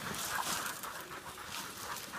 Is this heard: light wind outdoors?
no